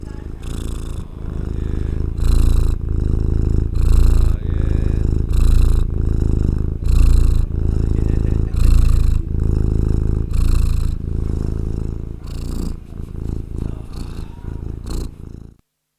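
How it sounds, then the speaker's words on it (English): A domestic cat purring close up, a loud, steady rumbling purr in rhythmic pulses of about one per second, continuing without break for most of the stretch before cutting off abruptly. "This is just cat purring."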